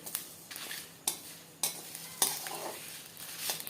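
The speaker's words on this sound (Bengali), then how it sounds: "যখন মশলাগুলো ভাজা হয়ে যাবে এরকম হালকা হালকা চিটচিট আওয়াজ আসবে" Soft crackling of whole spices toasting in a dry pan over low heat for jujube pickle, with several distinct scraping knocks of a utensil against metal; quiet and close, no talking.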